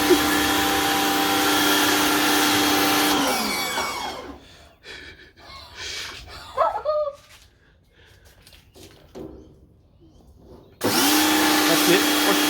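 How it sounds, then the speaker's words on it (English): A pressure cleaner's motor drones loudly and steadily, cuts out after about three seconds, leaving faint scattered noises, then roars back on near the end. "I'll empty that and then we'll hit this with a pressure cleaner."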